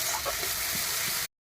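Dried chilli, ginger and garlic fry in oil with an even, close hiss and crackle, a little stirring underneath, running steadily before stopping abruptly.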